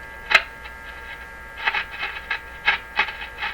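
Crackly shortwave radio reception on a Canadian Crosley 12B radio, with faint static hiss, broken by a handful of brief bursts of noisy, warbling signal that come and go irregularly.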